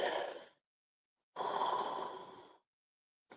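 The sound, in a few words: a yawn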